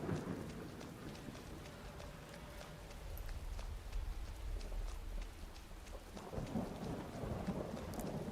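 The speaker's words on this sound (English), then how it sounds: "at least the rain's starting to let up a little bit. Still got some thunder and lightning, though." Steady rain hisses and patters in a modded Skyrim game world while deep thunder rumbles low and continuous through the middle, the downpour softening slightly at times without any voices.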